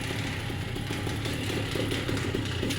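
Two-stroke ultralight engine, a Mosca 268 fitted with a three-blade propeller, running hot at a steady roar: a continuous, dense, loud drone with a buzzing low rumble and no pauses.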